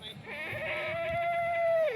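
A Kathiawadi goat at a livestock sale lets out one long, drawn-out bleat that carries over the steady babble of a crowd.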